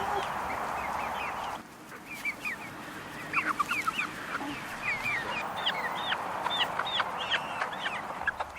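Chickens in a home wildflower garden cluck and chirp in repeated short bursts at close range over steady outdoor background noise, with no talk.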